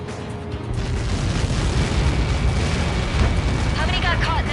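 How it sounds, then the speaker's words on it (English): A large explosion from a missile strike in Ace Combat 7 rumbles loud and sustained throughout, a dense roar with bursts layered over the low end and no clear talk. "How many got caught in that explosion?"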